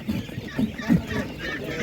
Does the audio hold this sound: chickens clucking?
yes